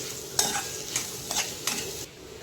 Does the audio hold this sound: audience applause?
no